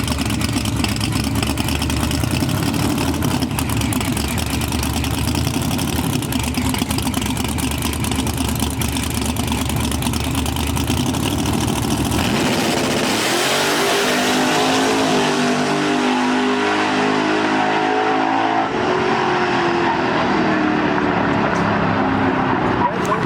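Turbocharged Ford Mustang drag car launching and accelerating hard down the track at a drag racing shootout, a loud sustained engine roar that drops off abruptly midway as the car pulls away, leaving fainter fading engine tones.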